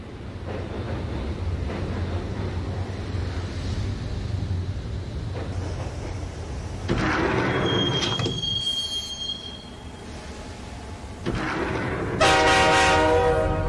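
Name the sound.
subway train riding in the Max Payne video game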